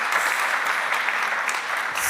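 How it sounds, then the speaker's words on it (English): Steady applause from a crowd, sustained clapping filling the room for a couple of seconds without pause. "And then a warm applause."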